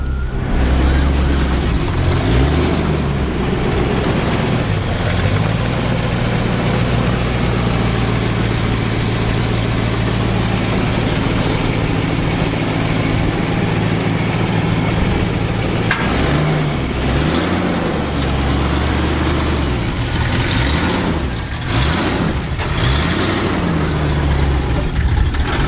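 A V8 engine idles close by with a low, steady burble that runs continuously, with a few faint bumps and shifts in tone near the end.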